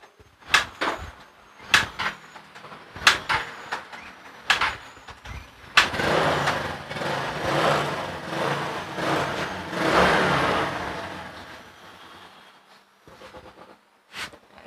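A Honda Beat scooter engine on a fitted carburetor, spun over with a few sharp kick-start clunks before it catches and runs with a steady, rising idle close by, then fades.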